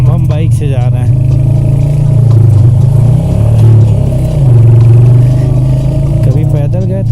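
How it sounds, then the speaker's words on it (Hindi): Hunter 350 motorcycle climbs uphill on a mountain road toward Mall Road, its steady loud engine drone and road rumble filling the whole stretch with slight swells as it pulls. "अब हम बाइक से जा रहे हैं,"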